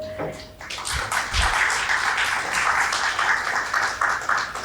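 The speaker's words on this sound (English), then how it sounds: "So let us welcome Nidhi with a huge round of applause" Audience applause at an intellectual property summit, a dense, steady wash of clapping that sustains for several seconds at moderate loudness with no speech over it.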